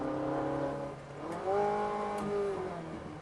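A Ferrari 458 engine pulls steadily with rising harmonic tones, heard from inside the car at moderate level, the pitch climbing and holding as it accelerates without a gear change.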